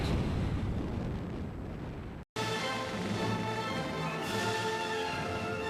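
Bombs exploding in the World War II shooter Medal of Honor, a loud continuous rumbling roar of blasts filling the scene, briefly cut to silence, then resuming as dense, sustained explosive thunder with no voices.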